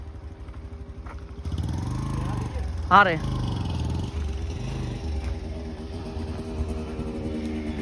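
A Bajaj 125cc motorcycle rides off-road, its engine rumbling and revving unevenly at moderate distance while people talk over it.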